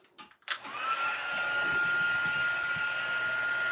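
After a sharp click, a heat tool spins up and blows a steady whirring hiss close by while drying a stamped card, holding a high tone under the rush.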